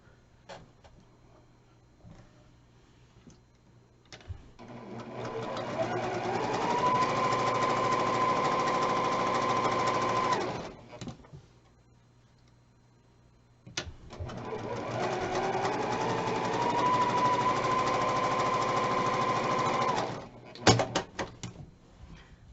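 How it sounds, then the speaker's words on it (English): A sewing machine stitches quilt half-square triangles in two long runs, each winding up to a steady, whirring hum at speed and then stopping, with clicks and handling noise between and after the runs. "sew again on the right and left of that line 1/4 inch"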